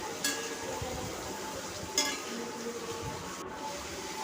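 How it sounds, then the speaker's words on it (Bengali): Potatoes frying in a pan with salt, giving a steady low crackling sizzle broken by a couple of brief clinks of utensil against the pan. "ভালো করে ভাজতে হবে।"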